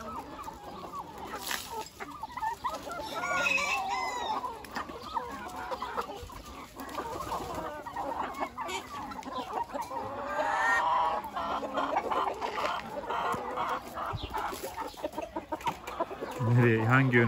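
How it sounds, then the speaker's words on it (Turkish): Backyard chickens cluck and chatter close by while being fed a mid-morning snack of scattered feed, busy overlapping calls with a few louder squawks, under a continuous bed of flock noise. "Hangi yöne atsam o yöne koşuyorlar bu tavuklar."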